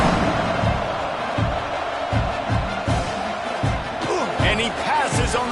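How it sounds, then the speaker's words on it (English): A stadium crowd buzzes in a football video game, a broad continuous roar with rhythmic thumps beneath, running under a commentator's play-by-play. "this crowd is buzzing after that last score"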